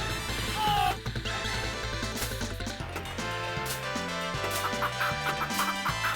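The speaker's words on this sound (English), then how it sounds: "Chickens." Chickens clucking in a video game, short fowl calls laid over a loud, busy game music track that dominates throughout.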